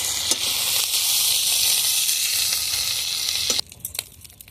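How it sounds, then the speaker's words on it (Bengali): Fish pieces fry in hot oil with a loud, steady, close sizzle that cuts off abruptly near the end, leaving only a few faint clinks. "মাছগুলো ভাজা হয়ে গেছে এখন উঠে নিচ্ছি"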